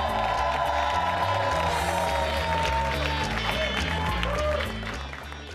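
A comedy club audience applauds and cheers loudly for a comedian, a dense steady wall of clapping and crowd noise that fades toward the end.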